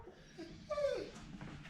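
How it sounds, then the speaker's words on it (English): A puppy whimpers softly indoors, giving a quiet whine that rises and falls in one short, drawn-out cry, with a couple of fainter whimpers around it and no talking. "He's a very vocal puppy."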